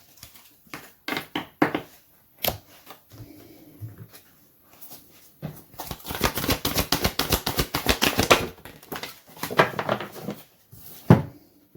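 A deck of oracle cards is shuffled in quick papery riffles and snaps, scattered bursts first, then a dense, rapid run of flicks before tapering into a few final taps; close and clear with no voices.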